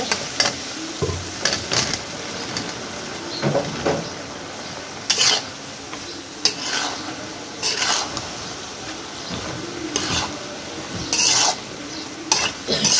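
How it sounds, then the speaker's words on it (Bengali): Okra tipped into spiced, oil-glazed masala in a pan on a weak stove, with a steady low sizzle under repeated scraping and clattering stirs against the metal, close and fairly loud. "এই যে এখন আমি ঢেঁড়সগুলো দিয়ে দিব।"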